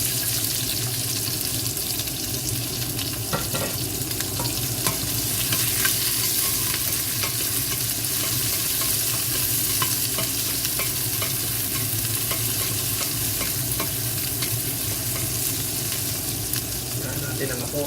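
Chopped onions frying and being stirred in a pan for pork rib kaldereta, a continuous loud sizzle with scraping stir strokes throughout and no talking.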